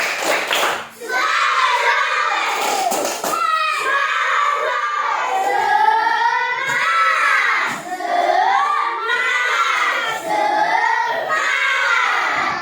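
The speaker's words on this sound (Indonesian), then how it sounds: "Jadi tepuk semangat." A class of fourth-grade schoolchildren loudly chants and claps together in a spirited classroom clapping routine, rhythmic shouted phrases and hand claps repeating in bursts, with a near, energetic group sound throughout.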